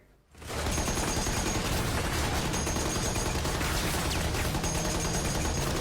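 Sustained machine-gun fire in a Pacific war battle scene, a dense, loud, continuous rattle of rapid shots that starts abruptly and keeps going without pause.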